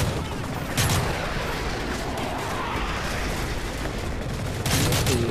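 Rapid, sustained automatic gunfire from the video game Call of Duty MW3 rattles loudly and continuously, with sharper bursts near the start and end, close and dense.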